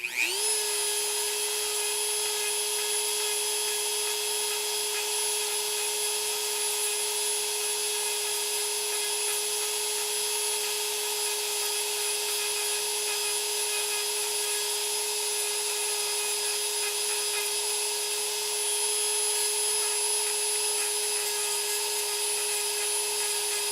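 A high-pitched rotary tool whines steadily and loudly throughout, a continuous grinding hum cutting through a steel part of a toy ankle with no pauses and no voices.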